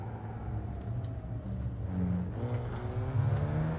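Road traffic near Istanbul Park in Euro Truck Simulator 2, with car engines droning and several vehicles passing at moderate distance in a steady, continuous rumble.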